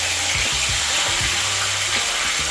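Loud, steady sizzling of fish frying in hot oil, with a dense crackle and occasional low bubbling pops.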